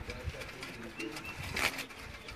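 Cooing from Sialkoti black-faced pigeons with lilac throats, soft low coos repeating through a faint bird chorus, with a brief brighter call near the end.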